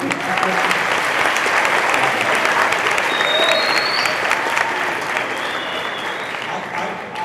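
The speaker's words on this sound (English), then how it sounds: "Let's give a round of applause." An audience in a high school fills the room with loud, sustained clapping that holds steady for several seconds before slowly thinning out.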